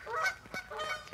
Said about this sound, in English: These geese are noisy as folk.